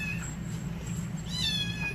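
Two close, clear kitten meows, one short cry near the start and a longer drawn-out one near the end, over a steady low background hum and no speech.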